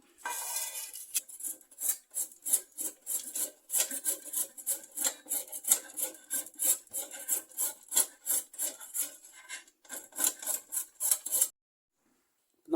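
A kitchen knife slices through washed, unripe green papaya in quick, rhythmic strokes, each cut a close, crisp scrape. The cutting runs steadily for about eleven seconds and then stops.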